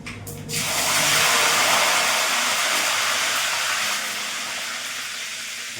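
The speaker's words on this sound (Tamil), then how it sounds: "கடுகு நல்லா பொரியுது" Mustard seeds splutter in hot oil for a mackerel fish kuzhambu, giving a steady, loud sizzling hiss that eases slightly toward the end.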